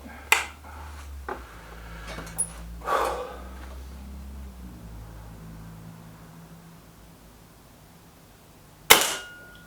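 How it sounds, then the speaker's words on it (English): A Kral Pro 500 air rifle fires a pellet, giving a sharp, loud single crack near the end after quieter handling clicks and shuffles; no speech. "So, just the bonus shot now, just as we run out of pellets."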